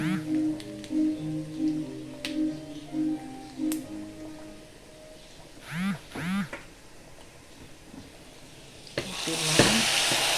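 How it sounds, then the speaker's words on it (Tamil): Onions sizzle in a pan as they fry to golden brown for a kuzhambu curry, with occasional stirring scrapes, a voice heard in places and a louder burst of frying near the end. "ப்ரௌனிஷ் கோல்டன் ப்ரௌன் நல்லா ஆனியன் வந்து நல்லா ஃப்ரை ஆகிடுச்சு"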